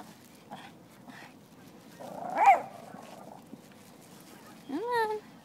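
A dog gives a whining bark and a rising yelp, sounding close, amid low background noise and a few faint sounds.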